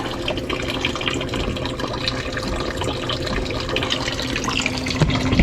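Water draining out of leaking plumbing on a removed water heater, a steady close splashing and trickling stream that runs unbroken for the whole stretch, with no talking over it.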